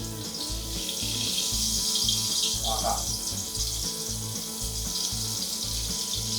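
Ivy gourd pieces sizzling in hot homemade coconut oil, a steady close frying hiss with faint bubbling and a low rhythmic hum in the background.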